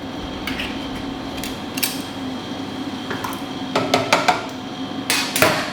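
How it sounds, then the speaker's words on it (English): Two tins of canned chopped tomatoes are emptied into a pot over medium heat for a beef ragu, with soft wet plops, scraping and clinks of metal on metal, loudest near the end, over a steady background hum. "I'm going to go in with the chopped tomatoes just straight in"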